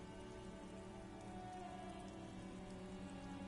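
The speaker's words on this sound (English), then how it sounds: "This rain will not let up anytime soon." Steady, dense rain falls on hard surfaces in the Disco Elysium video game, a faint, even hiss with soft pattering and no break, heard alone without talk.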